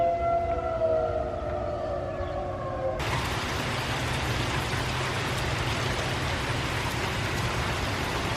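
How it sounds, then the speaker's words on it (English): A storm warning siren wails steadily at first, then a sudden wash of heavy rain-like noise takes over and continues evenly to the end. "Now the sirens are going off."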